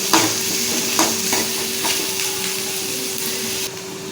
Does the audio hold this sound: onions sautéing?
yes